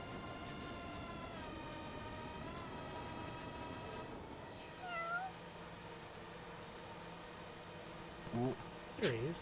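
A cat in the video game Judgment gives a couple of short meows near the end, over a steady hum of background game ambience.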